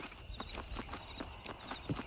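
Horse hooves clip-clop at a steady walking pace in the Red Dead Redemption video game, with close, even, regularly spaced hoofbeats and no voices.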